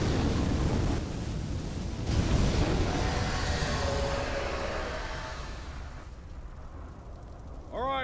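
A primal fire elemental bursts out in an anime parody, a loud roaring whoosh of flame and rumble that fills the scene and slowly fades, with a brief voice at the very end.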